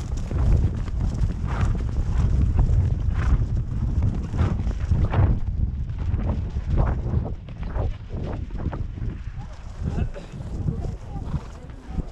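Horse hooves clip-clop steadily on the ground during a ride, with gusts of wind across the microphone and people talking over the rhythm of the steps.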